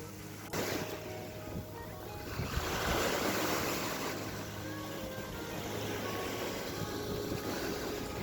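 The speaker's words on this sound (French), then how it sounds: "Le jour suivant, on est allé à la plage de Haeundae." Ocean waves wash in steadily at Haeundae Beach in Busan, South Korea, a soft, continuous surf roar with a gentle swell partway through, heard at a moderate distance.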